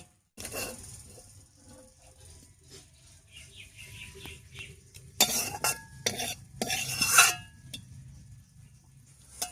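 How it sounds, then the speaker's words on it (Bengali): Cooked amrul greens are stirred and scraped in a pan as they come off the heat, with a soft sizzle underneath and a cluster of sharp metal clanks of utensil on cookware toward the end. "হয়ে গেছে, শাকটা নামিয়ে নিচ্ছি।"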